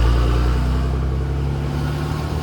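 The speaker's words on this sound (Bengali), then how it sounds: "প্রত্যেকটা গাড়ি খুব ধীরে ধীরে এগোচ্ছে" Cars creep slowly across a badly damaged bridge road, giving a continuous, loud engine drone with a low hum that stays steady throughout, with no voices.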